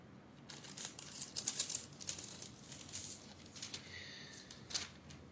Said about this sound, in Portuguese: eu tô folheando folha aqui